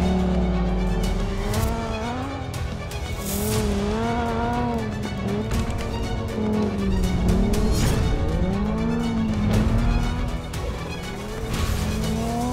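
A Lamborghini Huracan Sterrato off-road supercar driving hard, its engine rising and falling through revs with tire squeal and skidding, loud and close throughout with no talk.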